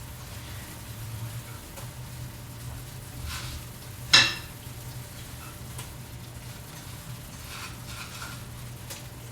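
Shrimp dropped into a hot pan for shrimp and grits, a soft steady sizzle running under a low kitchen hum, with one sharp clatter partway through and faint spitting crackles around it, no voices.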